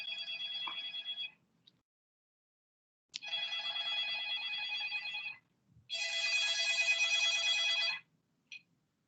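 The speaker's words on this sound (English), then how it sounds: "there was some phone ringing" A telephone rings in long electronic bursts separated by silent gaps, three rings in a row, moderately loud and alone.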